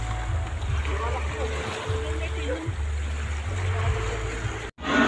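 A boat engine hums low and steady over lapping sea water as people talk and move about while disembarking; a brief dropout near the end.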